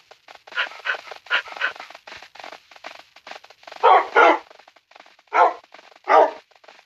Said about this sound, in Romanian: Am 13 câini, de câte știu.